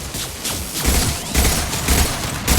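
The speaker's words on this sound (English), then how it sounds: "Watch out, flashbangs!" Flashbang grenades going off during a Mass Effect 2 firefight, a rapid string of loud bangs and crackling bursts mixed with gunfire, close and dense throughout.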